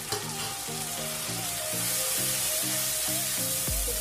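Chopped ingredients for a home-style biryani fry in a pan, a continuous close sizzle under a steady tonal hum with rhythmic pulsing, ending in a low knock.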